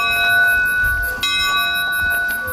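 A bell rung at a shrine in a highland nature area rings loudly and close, its sustained metallic tones shimmering and overlapping, with a fresh strike midway that renews the ringing as it slowly fades.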